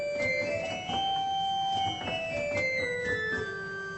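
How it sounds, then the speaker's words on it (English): The church pipe organ at St Marys The Virgin in Radwinter, Essex, sounds its fifteenth 2-foot stop: high, thin sustained tones stepping down through a slow run of notes, with faint clicks between them. "15th is a 2-feet thing."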